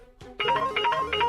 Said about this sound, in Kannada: ಮಾಯಮ್ಮ ತಿರ್ಗ ನನಗೆ ಫೋನ್ ಮಾಡ್ತಿದ್ದಾರಲ್ಲ